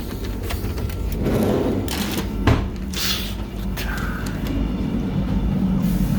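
Rumbling interior of an AM 96 train at La Louvière-Sud station heard from first class, with broad low rolling noise, a brief clunk midway and faint squealing tones.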